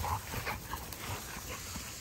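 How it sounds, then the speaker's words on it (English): A puppy or young dog whimpering softly in a home setting, faint thin whines scattered over a couple of seconds against low background noise. "Cali, look at your damn dog, man."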